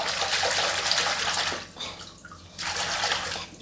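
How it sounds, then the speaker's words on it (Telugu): Curry leaves being swished around in a bucket of water, giving close, rushing sloshes that pause briefly before another burst of swirling water. "చూడండి బకెట్ నీళ్ళల్లో కరివేపాకుని ఎలా గుంజుతున్నానో చూడండి"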